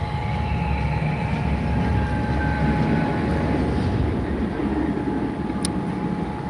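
B&M wing roller coaster launching at Wonderland, new for 2025: a loud, steady broadband rumbling roar that holds evenly for several seconds with no voices.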